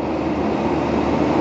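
Passenger train Serayu rolling along its line in Indonesia near Cimahi station, a steady continuous rumble and hiss of wheels and carriage noise heard from inside, loud and even throughout with no talking.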